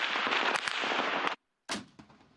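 Sustained bursts of rapid gunfire at frontline positions during shelling, loud and close, cutting off briefly into silence before another sharp burst resumes and fades.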